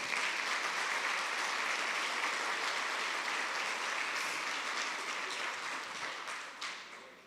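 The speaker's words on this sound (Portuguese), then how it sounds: "você também podia aplaudir Jesus agora" A church congregation applauds steadily in a broad, sustained wash of clapping that fades slightly toward the end.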